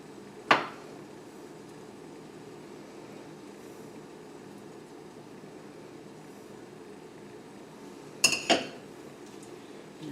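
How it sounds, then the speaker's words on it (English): Hollandaise sauce moved from a saucepan into a bowl: two sharp metallic clinks of a utensil against the pan, one near the start and a double knock near the end, with quiet room hush between and no talk. "take the sauce out of the saucepan and put it into a bowl"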